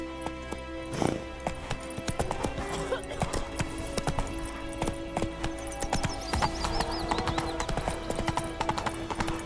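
Roach, the Witcher 3 horse, clip-clops in a quick, regular rhythm close by, with a neigh near the start over a bed of game music and ambience.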